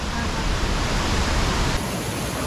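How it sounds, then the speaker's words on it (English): Nungnung Waterfall in North Bali gushing heavily, a dense, loud, unbroken roar of falling water close by, with a voice barely present under it. "here we are at the Nung Nung Waterfall. And as you can see behind me, this one's a real gusher."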